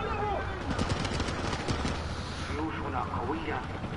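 Dense, continuous bursts of tank fire in the game Propaganda rattle like rapid machine-gun fire under a loud, busy mix, with a voice talking over it.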